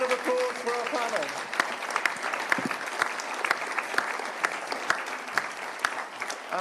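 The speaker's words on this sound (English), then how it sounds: "Please give a big round of applause for our panel." An audience at a pandemic-preparedness side event of the World Health Assembly applauds a panel, steady clapping with scattered sharper claps, while a few voices are heard through it.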